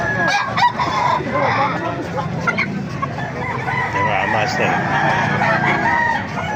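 Several roosters crow over a busy background of clucking fowl in Baliuag, Bulacan, with someone talking briefly nearby.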